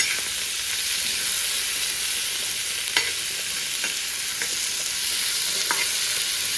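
Food for egg sambar fries in a pan with a steady, even sizzle, broken by a few light scrapes and taps of stirring, with no talk.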